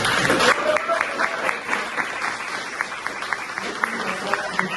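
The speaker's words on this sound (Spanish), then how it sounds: "Un fuerte aplauso." An audience at a public doctoral dissertation defense breaks into sustained applause, dense close clapping filling the room for the whole stretch, with a voice briefly heard over it.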